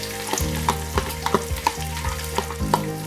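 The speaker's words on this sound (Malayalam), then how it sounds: "ഇതിലേക്ക് ഞാൻ ഉള്ളി ഇട്ട് കൊടുക്കുകയാണ്." Chopped onion hitting hot oil in a pan for chicken tikka masala, a steady loud sizzle with repeated scraping stir strokes about every half second.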